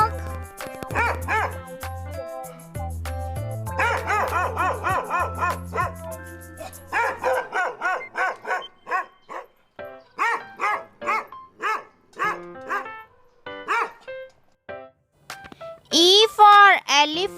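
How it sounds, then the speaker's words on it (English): A dog barks in a rhythmic series of sharp yips and bow-wows over an upbeat children's song melody, with a voice chanting along and whimpering dog sounds near the end. "D for dog."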